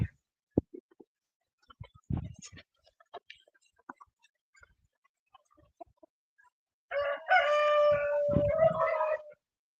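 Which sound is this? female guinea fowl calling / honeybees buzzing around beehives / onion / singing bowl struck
female guinea fowl calling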